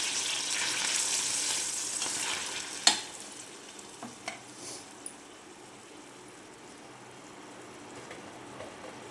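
Steamed chicken is tossed in hot oil and ghee in a pan, a soft sizzle under a few sharp scrapes and clinks of a utensil stirring, then settling into a faint, steady fry.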